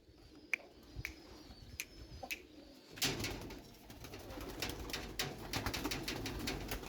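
Racing pigeons released for an 8-kilometre race burst into loud wing claps and flapping. Soft cooing and a few sharp snaps come first, then a dense flurry of wingbeats carries on to the end.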